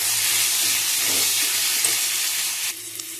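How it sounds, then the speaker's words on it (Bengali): Potatoes fry steadily in oil seasoned with turmeric, salt and Kashmiri chili, giving a dense, continuous sizzle with a faint stirring scrape, quieting slightly near the end. "এবার আলুটাকে ভালো করে ভেজে নেব।"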